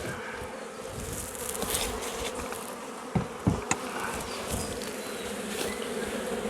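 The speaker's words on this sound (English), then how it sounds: "They all swarmed again, but they come back and landed on the front of the hive." A honeybee swarm hums steadily around the front of a hive, a dense continuous buzz of many bees with a few louder passes close by, no talking.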